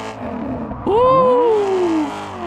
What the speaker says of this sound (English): you're seeing me popping out on the revs there, right? I'm hitting the limiter real hard.